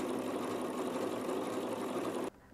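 A sewing machine with an overcast foot fitted runs steadily, stitching a wrapped seam along the edge of fabric, a continuous close whirring hum that stops abruptly near the end.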